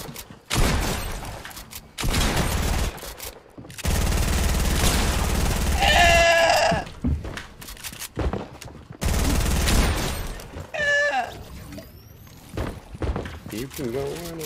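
Video game gunfire during a Champion League arena match comes in loud, close bursts of rapid shots separated by short gaps, with someone talking over the action and game sound effects.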